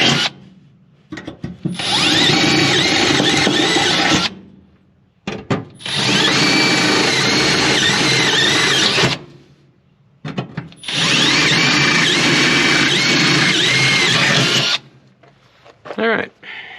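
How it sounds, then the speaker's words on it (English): A power drill whines loudly through metal in three long bursts, separated by short pauses of near silence. "So it's able to drill through here."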